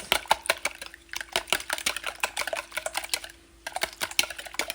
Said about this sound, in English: I'm just going to whisk these 6 eggs